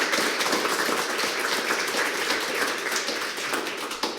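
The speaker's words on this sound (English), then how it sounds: "Big round of applause anyway." A dense, steady round of applause from an audience runs throughout, loud and continuous without pauses or voices on top.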